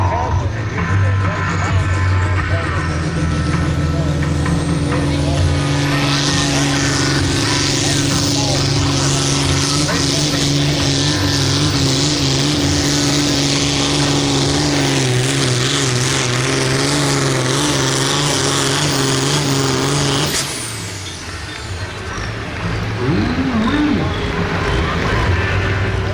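A modified Massey light pro field tractor at a tractor pull in Clinton, Missouri roars loudly as it winds up down the track, a sustained heavy engine drone that drops off sharply late on, with announcer talk over it.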